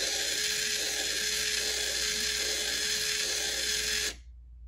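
A 35 kg servo motor spins during an RPM test and gives a steady mechanical whine with a faint rhythmic ticking. It runs close and constant for about four seconds, then stops abruptly.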